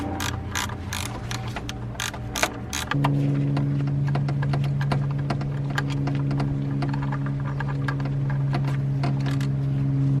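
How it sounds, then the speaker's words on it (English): Ratchet clicking steadily while undoing an E12 bolt on the oil cooler cover of a BMW E92, starting in quick bursts and then settling into a continuous mechanical whir with a strong steady hum, close and loud, no talk. "All right, so now we are going to undo this bolt, which is going to be an E12."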